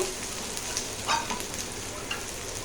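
Onion frying in a pan as the base for a fish curry, a soft steady sizzle close by with a few faint clinks, no talking.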